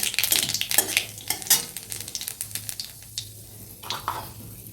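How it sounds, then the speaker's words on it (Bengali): Black cumin seeds fry in hot oil in a pan, a steady crackling sizzle broken by repeated scraping stirs, close and fairly loud with no talk. "এর মধ্যে আমি বেশ কিছুটা পরিমাণ কালো জিরে দিয়ে দেবো"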